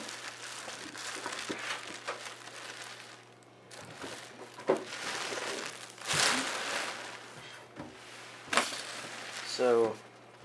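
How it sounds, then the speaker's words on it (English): Plastic bag crinkling while unboxing a budget gaming PC motherboard, video card and case, heard as bursts of close rustling and crushing scattered among quieter handling noise. "Plastic bag."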